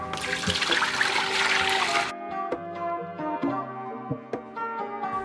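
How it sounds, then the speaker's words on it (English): Fresh water pours noisily into cooking pots for a gator ramen broth, a loud rushing fill that stops abruptly after about two seconds, followed by light clanks and ringing metallic knocks of the pots. "fill the pots back up with fresh water and put on high heat."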